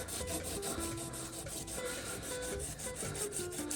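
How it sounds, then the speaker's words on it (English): A spiral-cut, fluted wooden pen blank being hand-sanded to smooth file marks, close up: quick, even back-and-forth rubbing strokes in a steady rhythm, with no talking. "the sanding is really just to smooth out the tool marks made by the file"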